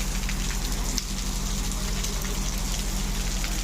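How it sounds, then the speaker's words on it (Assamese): Light, steady rain falls throughout, a dense, even patter with a low continuous hum beneath it and no voices. "শুনি পাই আছেনে বৰষুণৰ আৱাজটো?"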